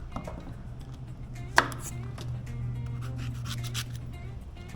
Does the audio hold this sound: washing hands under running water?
no